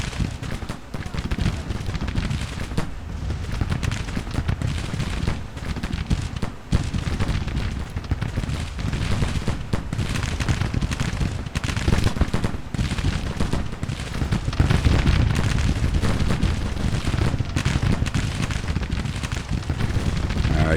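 Artillery and musket fire rumble through a Civil War battle in Grand Tactician: The Civil War, with dense overlapping cracks and booms continuing throughout, loud and sustained.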